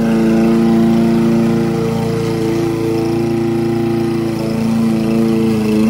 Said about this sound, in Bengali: সকালে ঘাস কাটছি